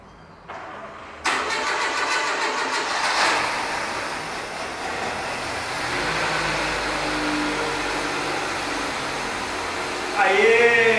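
A Renault Kangoo engine cranks and fires up after being installed, then settles into a steady mid-pitched idle that runs close and loud throughout, with a brief sharper mechanical whine near the end.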